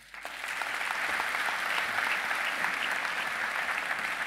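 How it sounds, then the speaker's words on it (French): Audience applause fills a conference hall at the opening keynote of DevFest Nantes 2017, a dense, steady roar of many hands that holds strong and even from start to finish without any talk. "Merci de l'applaudir."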